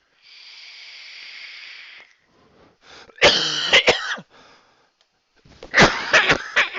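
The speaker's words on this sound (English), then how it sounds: "I just want the coughing to stop completely" A sick man coughs twice, each a sharp burst of several harsh, close hacks, after a short hissing breath and a quiet pause.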